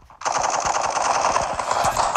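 Sustained close burst of rapid automatic gunfire in the Bullet Force shooter game, loud and continuous for about two seconds with no talking.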